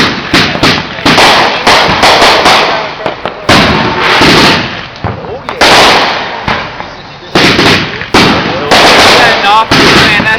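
Backyard fireworks and firecrackers at a Detroit block party go off in rapid, loud crackling barrages and sharp bangs, near and continuous with short gaps, and people talk faintly underneath.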